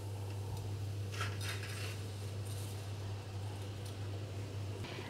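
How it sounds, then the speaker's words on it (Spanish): A metal utensil stirs spaghetti in a pot of boiling salted water, giving light scraping and clinking over a steady, close hum of bubbling and burner noise, with no talking. "Removemos un poco al principio para que no se pegue la pasta en el fondo de la olla"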